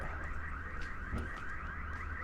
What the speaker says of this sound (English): Something just went off. Sounds like a house alarm. That's a house alarm.